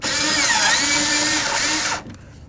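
A power drill drives bolts into a 2008-2012 Jeep Liberty door panel during a window regulator replacement, one loud, close, continuous whine lasting about two seconds before cutting off abruptly into quiet.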